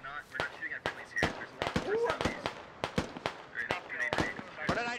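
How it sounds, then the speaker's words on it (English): Sharp explosive cracks and blasts of grenades going off in the Squad video game battlefield, several impacts spread across a few seconds amid gunfire, with people talking over them. "Grenade's being thrown in the field."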